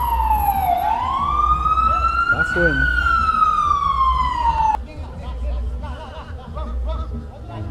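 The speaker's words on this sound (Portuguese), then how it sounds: "Entra a ambulância da Unimed." Wailing ambulance siren rising and falling loudly across most of the clip, entering a football match crowd scene, with crowd noise throughout and a brief spoken comment near the end.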